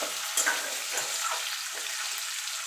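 Onion and tomato fry in a pan with a steady, close hiss of sizzling oil, while a utensil scrapes and stirs in a few soft, irregular strokes.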